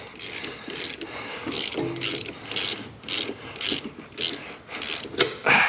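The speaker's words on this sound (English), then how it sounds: "Just kind of pull on them as you're ratcheting." A hand ratchet clicks in quick repeated strokes while backing out bolts on a Kubota 900 RTV engine during engine removal. The pawl's sharp, steady ticking is close and clear, with no talk over it.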